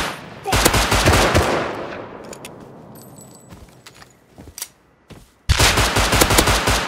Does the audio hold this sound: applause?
no